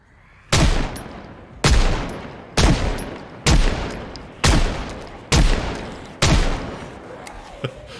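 Seven loud pistol shots in the zombie survival video game Project Zomboid, fired at a steady pace roughly a second apart, each with a sharp crack and a decaying tail.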